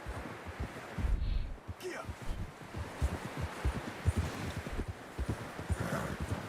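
Steady hoof clip-clop from a walking horse in Red Dead Redemption 2, a regular rhythm that continues throughout, close by with light rustling and faint wind behind it.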